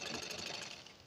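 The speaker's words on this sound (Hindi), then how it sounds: "हल्के से खींचते हुए सिलाई लगाना है।" Sewing machine stitching the neckline of a lined blouse, a steady dense mechanical whir at close range, continuous and fairly quiet with no talking.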